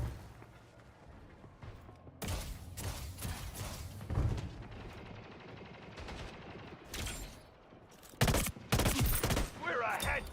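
Splitgate 2 gunfire in a fast arena shooter, bursts of rapid shots and sharp impacts coming in uneven clusters, louder toward the end, with a voice speaking now and then.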